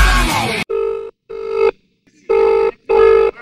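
A telephone rings loudly in four evenly spaced electronic bursts after a brief noisy opening, with silent gaps between the rings.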